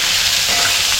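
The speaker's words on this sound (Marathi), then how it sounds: "आपल्याला कांदा टाकायचा आहे. कांदा आपल्याला आता नरम करून घ्यायचा." Chopped onion and chili sizzle in hot oil in a pan, a loud, continuous close-up crackling hiss with no one talking.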